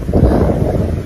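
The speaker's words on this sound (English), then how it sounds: "It is so windy and my skirt keeps going up." Strong wind gusts buffet the microphone outdoors at Port Lympne wildlife park, a brief, loud, rumbling roar with no one speaking.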